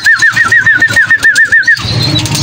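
Pigeons nearby give a rapid series of about a dozen wing claps or flutters, each with a warbling chirp. The sound stops suddenly and leaves softer rustling behind.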